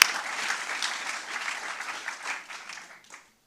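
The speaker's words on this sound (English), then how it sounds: "Tom and his team really deserve another round of applause" A conference audience at a climate summit's opening plenary claps in a steady wash of applause that thins and fades out near the end.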